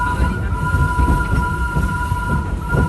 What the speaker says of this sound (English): We are now approaching the Harambe train station.